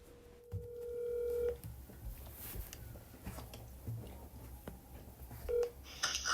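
Telephone keypad tones beep as a number is dialed, a long steady tone followed by short separate beeps spread over several seconds, all fairly quiet against a faint background hum.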